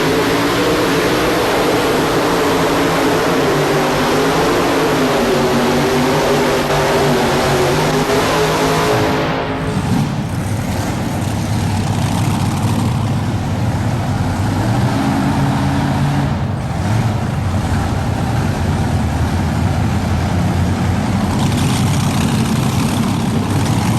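Modified tractor pull at the 1999 National Farm Machinery Show in Louisville, Kentucky, with a 512 cubic inch engine roaring loud and close for the whole run, its pitch holding steady then dropping and shifting as the pull goes on.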